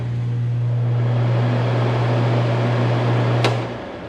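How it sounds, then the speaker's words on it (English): A kitchen range hood with a double fan runs as a steady, loud hum with a strong low drone, then a short click near the end as it shuts off and the drone fades. "It has double fan that's in here, and it sucks up quite a bit."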